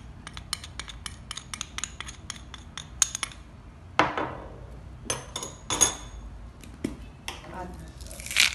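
Beef marinade with soy sauce, oil and cornstarch being mixed in a bowl, a run of light rapid clicks and taps of utensil on dish, then a few louder scrapes and clatters, close and fairly quiet.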